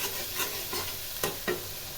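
Spices stir and fry in a pan during home Bengali cooking, with a steady sizzle broken by a few scraping stirs of the spoon.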